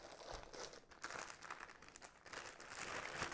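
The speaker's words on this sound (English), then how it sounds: "A nice plastic bag." Faint, close crinkling of a plastic bag being handled, irregular rustles and crackles with no voices.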